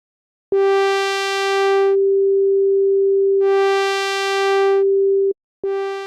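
A sustained synthesizer tone whose timbre periodically brightens and dulls as the modulation sweeps, cutting off briefly before restarting.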